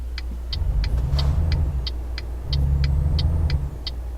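Car traffic in Euro Truck Simulator 2 rumbles close by, two engine swells passing in turn, each lasting about a second and a half, while a regular ticking indicator beats steadily throughout.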